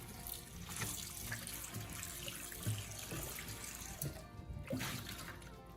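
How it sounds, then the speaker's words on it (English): Warm tap water runs steadily into a sink while a new pan is washed with dish soap, a soft continuous splashing with occasional clinks and knocks, fairly quiet and with no talk. "start by washing it thoroughly with warm water and a little dish soap"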